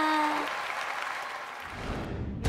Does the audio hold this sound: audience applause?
yes